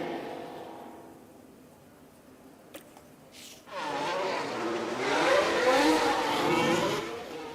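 F1 race cars leaving the pits in F1 Manager 2013 at Hungary: a quiet stretch, then engines burst in and keep rising in a loud, sustained whine of accelerating cars, with a brief tick just before.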